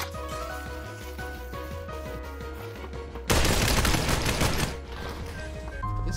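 Rapid gunfire bursts from the VR battle royale game Population One, heard as a dense fusillade that swells loudly midway over a steady game soundtrack, with no talk.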